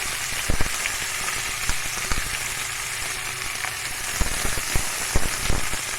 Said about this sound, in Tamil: ஒரு சிகப்பு கலரில் வர வரைக்கும், ஒரு பொன் நிறமாக வர வரைக்கும் லைட்டாக வதக்கி விடணும்